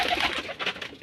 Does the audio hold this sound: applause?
no